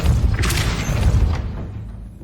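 The Depulso force spell fires in Hogwarts Legacy, a dense booming whoosh with a heavy thud that rolls out and fades over about two seconds, with no talk over it.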